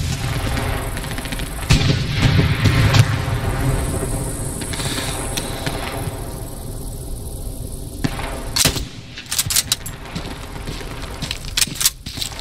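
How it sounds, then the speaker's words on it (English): Machine gun fire in the WWII shooter Hell Let Loose on the Kursk map, a dense continuous crackle of gunfire and distant booms, with sharper close bursts near the end. "Getting shot by an MG."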